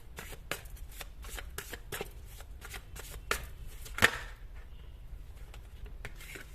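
Tarot cards are shuffled and drawn by hand, a close, quiet series of rapid riffling bursts and soft slaps repeating in an uneven rhythm, with one sharper snap midway.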